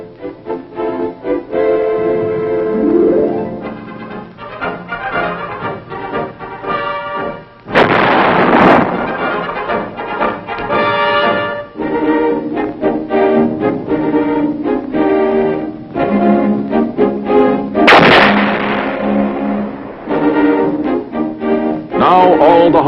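175mm self-propelled guns fire artillery shells at a distant target during testing at Aberdeen, two heavy blasts standing out loud and sharp over a dense, busy mix of other sound that runs the whole way.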